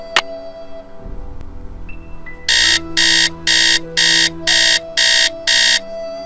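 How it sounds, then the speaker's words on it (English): An alarm set for 5 p.m. goes off after a brief quiet lead-in. It gives seven loud, evenly spaced electronic beeps in a steady on-off rhythm, with no one speaking. "Set the alarm for 5 p.m."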